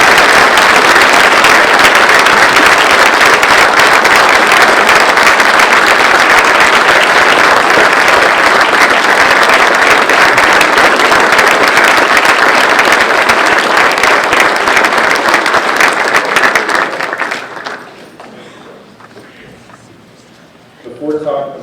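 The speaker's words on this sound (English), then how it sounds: "So another round of applause because you're" Sustained, loud audience applause fills a memorial ceremony hall, dense and steady for most of its length before thinning out and fading near the end.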